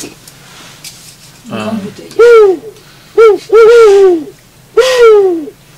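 A man whistles on the bottle-blowing principle to imitate the hoot of a long-eared owl. Three close, hollow, falling hoots come at spaced intervals after a brief low vocal sound.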